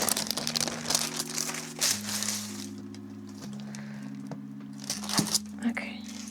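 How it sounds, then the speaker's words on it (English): Plastic wrapping crinkles and crackles in bursts up close while a journaling Bible is decorated with pom-poms and ribbons, with a low steady tone running underneath. "sorry about the crinkly noises, guys."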